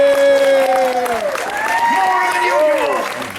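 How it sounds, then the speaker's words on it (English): At a renaissance festival show, the audience claps and cheers to vote, a loud burst of crowd noise mixed with shouting voices and a performer talking over it. "By applause, how many people for the slow way?"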